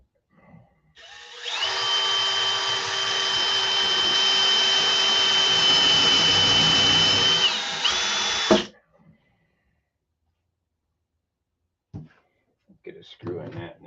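Power drill running continuously at a steady pitch for about seven seconds while working construction lumber for cabinets, loud and close, then stopping, followed by a few faint clicks and handling noises.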